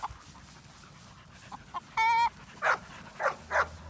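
An American Bulldog pup barks several times in short, sharp yelps, spaced irregularly, with a brief high tonal squeal partway through and a quiet background.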